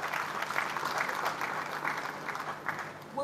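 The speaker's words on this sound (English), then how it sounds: "Can we give a round of applause?" Audience applause at a live 2023 sustainable aquaculture development event in Africa, a steady dense clapping that fills the whole stretch at moderate volume, with faint voices mixed in near the end.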